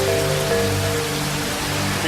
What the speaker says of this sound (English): A torrential downpour